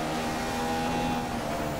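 Formula One car engine in F1 2015 at Monaco, running a lean fuel mix, holds a steady loud high-pitched drone with a constant tone, no voices.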